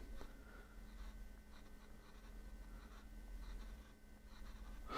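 A stylus scratching and tapping lightly across the screen of an LG Stylo 6 phone, faint and close, in short intermittent strokes over a quiet background hum.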